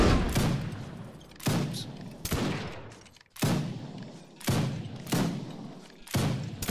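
Musket volleys in Mount & Musket, a Napoleonic line battle, crack out as six or seven loud, sharp rippling bursts roughly a second apart, each blast trailing off into a rumbling echo.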